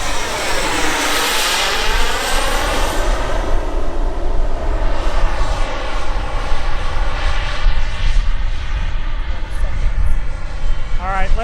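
Sebart Mini Avanti turbine model jet flying past, a loud continuous turbine whine with sweeping pitch shifts as it passes, sustained and close, with a voice talking underneath.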